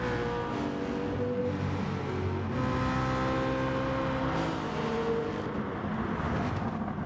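BMW race car at the Brands Hatch GP circuit, engine held at high revs with a harmonic whine that dips and climbs again, loud and continuous as heard on board.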